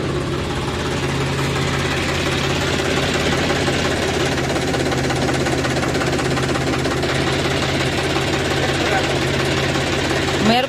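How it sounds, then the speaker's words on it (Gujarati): A farm tractor engine runs steadily in the fields, a loud, continuous chugging drone with a knocking rhythm that holds without pause for the whole stretch. "અને હવે અમારું ટ્રેક્ટર જાય છે પંછી હાકવા"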